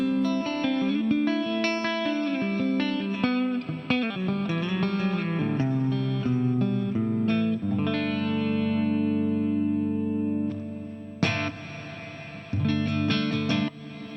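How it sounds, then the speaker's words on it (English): A guitar played through a TC Electronic Hall of Fame 2 reverb pedal with ducking set at a -40 threshold, so sustained chords and notes swell and echo, the reverb tail held back while playing continues. "the reverb is being compressed, it's being ducked. That's the correct name for this, ducking reverb."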